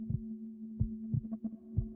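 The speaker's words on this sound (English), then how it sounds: "Oh, heartbeat." A video game heartbeat throbs in a steady lub-dub rhythm, about four soft, low beats over a faint constant hum, with no other sound.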